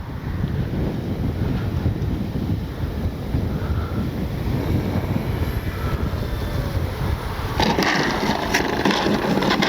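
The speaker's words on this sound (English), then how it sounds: "Maybe this wind will die enough for me where I can do that." Strong wind buffets the microphone outdoors at an RC model airplane flying field, a constant loud rumbling roar that fills the whole stretch without a break.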